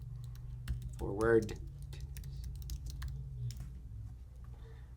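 Quiet clicking of keys on a computer keyboard, a scattered run of light taps over a low hum, with a brief spoken word near the start.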